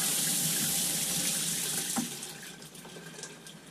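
Water runs steadily from a newly installed massaging shower head, a continuous broad hiss that holds fairly loud, then dips slightly and keeps flowing with small splashy fluctuations.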